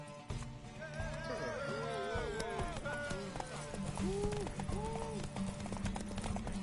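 Horse hooves clip-clop at a gallop in The Witcher 3 on PS4, a steady rapid rhythm close by with a horse whinnying and people talking over it throughout.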